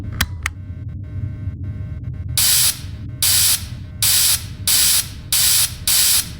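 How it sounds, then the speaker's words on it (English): Spraying on an animatronic suit in a horror video game: six loud, even bursts of hissing spray repeat at a steady pace over a low mechanical hum, following a couple of sharp clicks, with no talking. "So go ahead and start spraying the suit"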